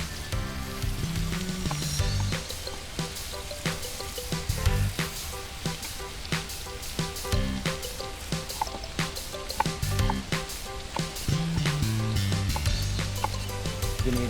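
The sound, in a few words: chopped santol added to sizzling meat in a pan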